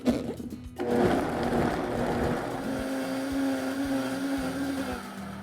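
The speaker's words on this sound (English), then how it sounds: "All right, let's cover and blend." A blender purees rehydrated guajillo peppers with chicken broth for mole rojo sauce, starting with a brief jolt and then running as a loud, steady whirring roar close by.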